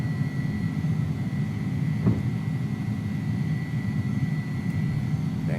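An Airbus A300 jet climbs out after takeoff in the X-Plane 11 flight simulator, a steady, loud engine roar with a sustained tonal whine running through the whole stretch.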